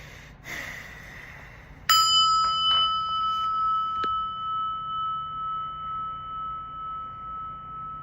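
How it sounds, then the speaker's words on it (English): A prayer bell is struck once, with a faint tap just before it. It gives a clear, loud ring that hums and slowly fades over several seconds in a quiet room. "let's get a big breath and listen to the prayer bell."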